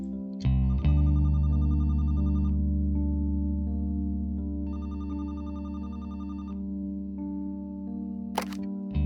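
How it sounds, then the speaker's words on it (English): An in-game telephone rings in The Roottrees are Dead, sounding two loud, close electronic ring bursts over a sustained musical drone, with no talking. "Got a phone call?"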